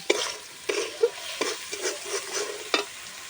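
Meat curry with ginger, garlic and salt is stirred in a hot pan, several scraping strokes of the spoon at irregular intervals over a continuous sizzle, close and fairly loud, with no talking.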